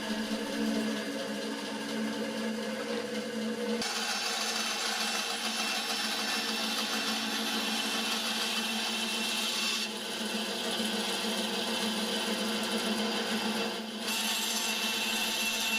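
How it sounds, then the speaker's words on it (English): A bandsaw cuts through wood held in an angled jig, giving a steady high-pitched whine and rasp in long continuous passes with brief breaks between cuts, fairly quiet and without talking. "Because I can only cut on the bandsaw in one direction, the jig flips around to cut the opposing angle."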